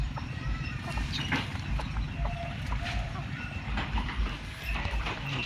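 Cattle and water buffalo walk along at dusk, their hooves clopping in a soft, continuous irregular patter, moderately close, with faint background sounds around.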